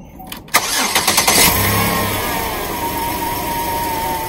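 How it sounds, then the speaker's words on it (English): A van's engine is jump-started with a portable battery booster: a short rapid cranking of the starter catches, and the engine settles into a steady, loud idle that carries on to the end. "it started the van very easily"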